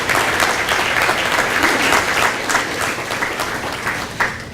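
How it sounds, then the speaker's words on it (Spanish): Church congregation applauding newly baptized members, a dense burst of many hands clapping at close range, loud and sustained, then gradually thinning and softening toward the end. "Démosles un fuerte aplauso también para ellos."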